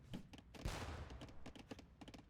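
Arquebus gunfire in a Warlords III strategy game battle: a burst of sharp, crackling shots in quick succession, one heavier blast in the middle, with scattered pops continuing around it.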